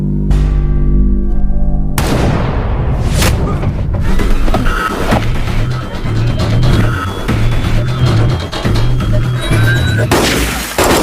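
Loud gunfire and booming impacts from a sniper scene in an action film, several sharp shots and blasts over a dense score and effects mix, with brief talk.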